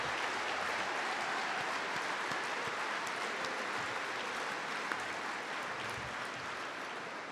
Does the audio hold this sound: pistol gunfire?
no